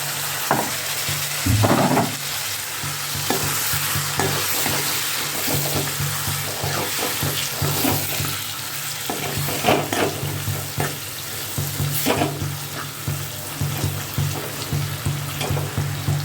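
Chopped tomatoes with chili cook in a pan for chicken kofta curry, giving a steady soft sizzle broken by occasional scrapes and stirring clatters, close and moderately quiet.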